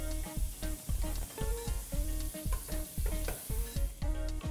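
Golden Ray margarine sizzling in a hot pot, a steady frying hiss broken by rhythmic scraping and clinking as the pot is stirred, close and with no talk.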